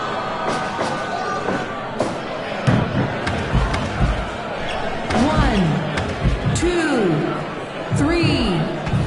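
A capacity crowd in a professional wrestling arena cheers and reacts throughout a six-man tag match, a loud continuous roar with sharp slams and swells, while commentators' voices rise above it.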